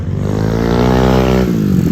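A motorcycle engine revs up loudly and close by during wheelie practice, its pitch climbing then dipping as the throttle eases.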